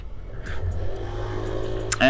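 A 2018 Neco GPX 50, a 50cc scooter being broken in, runs with a low, steady engine hum while ridden, a brief rise near the end, and a voice speaks over it.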